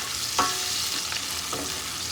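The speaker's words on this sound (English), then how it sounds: "So I'm stir fry it." Beef pilaf stir fries in a pan with a steady sizzle and two brief scrapes of a utensil over about two seconds, close and fairly quiet, no talking.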